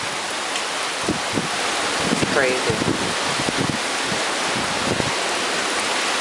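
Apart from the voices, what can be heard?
high winds and heavy rain during a tornado storm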